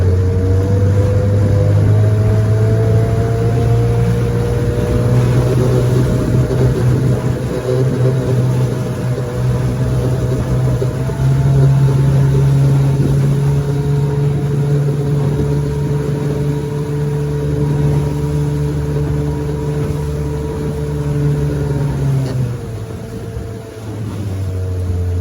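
A 1968 Evinrude 9.5 HP outboard motor runs steadily on a lake, its loud, even drone shifting pitch slightly as the throttle changes before easing down near the end.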